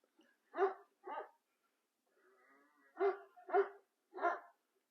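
A Karabash shepherd dog barks five times at close range in two groups, two quick barks, a pause with faint rustling, then three more, with no talking.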